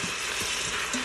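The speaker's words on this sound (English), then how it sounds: "I'm browning my hamburger" Ground beef browns in an Instant Pot with a steady, close sizzle and crackle, plus faint stirring scrapes throughout a short stretch.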